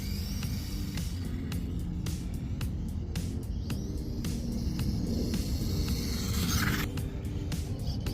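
A Losi Micro B RC car with a Furitek 2S brushless motor runs at full throttle, a steady whining buzz over constant scraping and rumbling, with sharp ticks and clicks scattered through.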